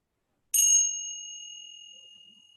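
A single soft strike of a meditation bell, shimmering at first and then settling into a pure sustained ring that gradually dies away in a quiet setting.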